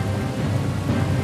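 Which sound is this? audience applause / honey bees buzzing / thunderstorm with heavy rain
thunderstorm with heavy rain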